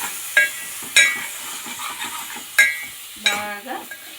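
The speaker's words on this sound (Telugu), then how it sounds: "ఇప్పుడు మనము సిమ్లో కొంచెం పెట్టుకొని చికెన్ ముక్కల్ని వేసి బాగా" Chicken pieces are stirred in a pan over a low flame for biryani: sharp spatula clanks against the pan come at irregular intervals, with sizzling frying in between.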